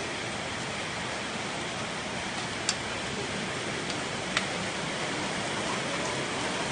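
Heavy rain pouring down at a school, a dense constant roar of falling water with a couple of faint sharp ticks, no voices.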